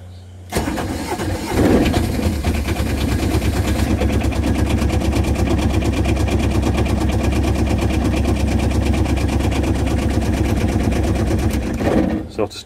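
An Aixam Mega Multitruck small utility vehicle cranks, catches and settles into a steady, close, loud idle with a rapid even chug that runs for about ten seconds before cutting off.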